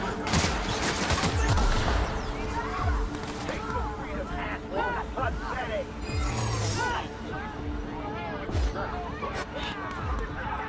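Gunfire crackles through a space adventure video game firefight, scattered shots and bursts mixed with game voices and background commotion across the stretch, loud and busy throughout.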